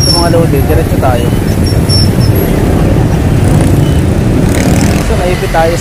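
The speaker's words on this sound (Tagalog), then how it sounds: "So naipit tayo sa traffic." Heavy road traffic in Las Piñas, heard from a motorcycle that is stuck in congestion: a loud, constant rumble of engines and idling vehicles close by, with a rider talking over it.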